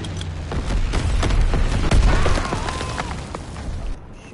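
Booming blasts and bursts of gunfire from a World War II shooter game during an incendiary bombing mission, a dense, loud wash of explosions with rapid shots layered throughout, fading slightly toward the end.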